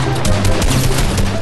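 Rapid, loud bursts of gunfire in the Fortnite battle royale video game, with shotgun blasts crackling in a quick volley over about a second and a half.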